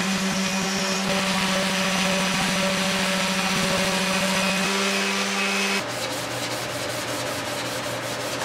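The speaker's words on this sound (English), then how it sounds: "Orbital sander made quick work of the scratches, stepping up through the grits." An orbital sander works scratches out of a surface through stepped grits, a loud steady buzzing whir with a gritty rubbing texture that shifts tone as pressure changes, with no talk.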